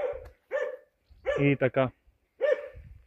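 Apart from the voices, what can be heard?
Karakachan dog barking on a Balkan mountain trail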